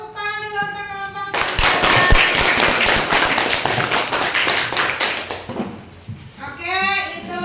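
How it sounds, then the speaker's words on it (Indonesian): Classroom clapping for a student group after a lesson presentation on halal and haram, a dense burst of many hands running several seconds, framed by speech before and after. "Tepuk tangan dulu untuk kelompok."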